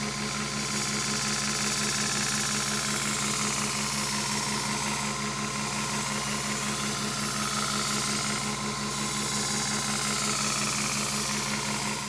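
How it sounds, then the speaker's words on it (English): An 800 grit belt running on a 2x72 belt grinder while a knife edge is sharpened, giving a steady, loud whirring hiss with a low motor hum that continues evenly throughout. "We're going to use a dull 800 grit and basically just do the same thing, chase that burr back and forth"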